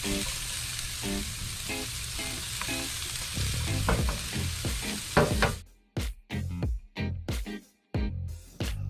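Chopped onions frying in a hot pan sizzle steadily, then are stirred, with sharp scraping clicks and spatula knocks near the end.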